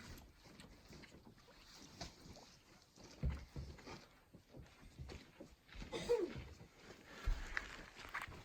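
A canoe glides on a Boundary Waters lake, with faint paddle strokes and water splashes, light wind noise and occasional bumps against the hull, all quiet and close.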